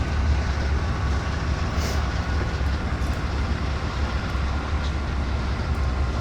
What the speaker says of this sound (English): it's loaded, very long loaded train today